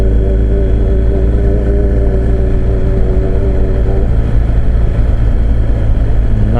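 Car engine with a droning, propeller-like tone heard from inside the vehicle, a loud, steady low rumble with a rising whine near the end.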